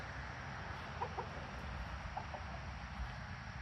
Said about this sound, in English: Chickens, man.